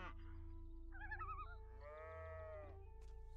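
A cow in the video game Gothic 3 lets out a drawn-out, wavering moo amid quiet game ambience, followed by a second, steadier lowing call, both fairly faint and without talk.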